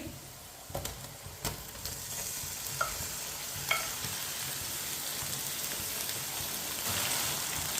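Beef goes into a hot karahi over lightly browned ingredients. A few sharp clatters and a soft crackle come at the start, then a steady, moderately quiet sizzle grows a little louder near the end.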